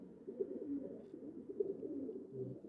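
Pigeons coo several times in low, soft, rounded calls over a steady murmur, fairly close and moderately loud, with no talking.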